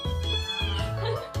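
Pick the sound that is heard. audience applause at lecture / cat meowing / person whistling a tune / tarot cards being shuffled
cat meowing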